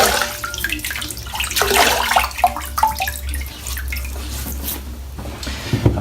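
Cold water splashes and drips close up in a sink, with hands scooping and patting water onto the face before a shave, irregular wet slaps over a steady running trickle.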